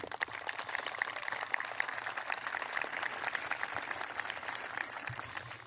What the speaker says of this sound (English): if we can just take a moment to give them a round of applause